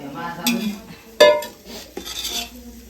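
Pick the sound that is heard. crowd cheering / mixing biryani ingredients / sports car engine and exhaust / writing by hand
mixing biryani ingredients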